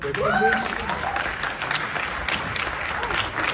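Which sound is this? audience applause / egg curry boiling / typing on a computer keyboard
audience applause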